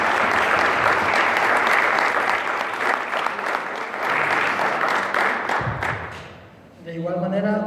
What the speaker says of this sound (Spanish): les pido por favor un cordial aplauso